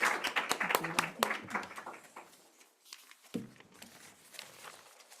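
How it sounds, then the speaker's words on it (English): An audience at a climate and health panel event claps for the speakers, a dense burst of applause close by that thins out and fades to scattered claps within a few seconds. "want to ask you guys to applaud our speakers here"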